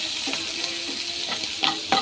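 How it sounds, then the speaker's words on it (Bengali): Chow mein noodles stir-fry in a hot pan with a steady sizzle, a few sharp scraping tosses of the spatula punctuating the frying near the end. "ছেলের জন্য চাউমিন রান্না করছি, ও ফেভারিট নুডলস"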